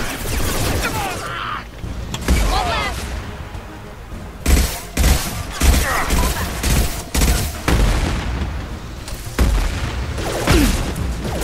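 Gunfire in the Mass Effect 2 video game: repeated loud bursts and booms in irregular volleys, close and dense, layered over game music and effects.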